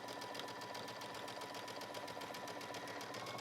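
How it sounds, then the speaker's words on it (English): A sewing machine runs steadily while top-stitching along the serged edge of a denim shirt dress, giving an even, continuous rapid needle chatter that is close but quiet, with no voices. "So I'm stitching right on the edge of that serge."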